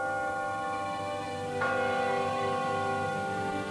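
A church bell ringing, a sustained tolling tone with a fresh strike partway through, alone and fairly steady with no voices.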